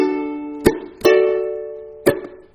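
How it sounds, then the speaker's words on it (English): Ukulele strummed down with the index finger and nails, with percussive flicks on muted strings landing on beats two and four; ringing chords punctuated by sharp slaps, close and clear, no voices. "flick on the muted strings on beat 2 and beat 4."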